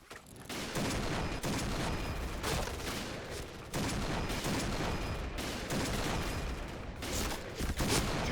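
Rapid automatic gunfire from a shooting video game comes in loud, dense volleys that run nearly continuously, with brief gaps between bursts. No one speaks.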